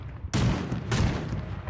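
Rapid video-game gunfire in the futuristic shooter Cyber Hunter: two loud, broadband bursts of shots, the second following about half a second after the first, with no talk over them.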